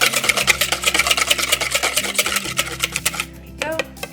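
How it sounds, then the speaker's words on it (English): Bungeoppang batter being mixed with sugar in a bowl, a quick steady run of scraping, swishing strokes close up for about three seconds before the stirring stops and a few softer knocks follow. "I'm going to mix this together well."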